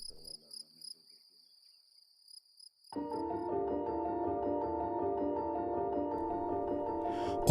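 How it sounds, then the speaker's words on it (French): Crickets chirp at night in Gassira, Algeria; a few faint clipped chirps come first, then after a near-silent pause a dense, steady chorus of trilling insects starts up and continues close and clear, with no talking. "Le bruit des grillons de Gassira."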